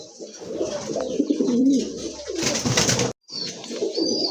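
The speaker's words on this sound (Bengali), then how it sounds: "সিঙ্গেল একটা নট কবুতর" A single crested knot pigeon gives soft, throaty coos up close, a few repeated calls broken by a short silent gap.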